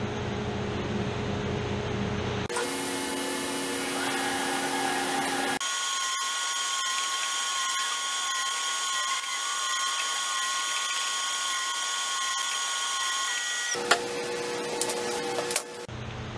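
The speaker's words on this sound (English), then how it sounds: "Now I'll cut the spacers." A power tool cuts wooden spacers for a thick round table top, starting with a loud, steady whine that shifts pitch partway through and runs almost continuously, with a few sharp clicks near the end and no talking.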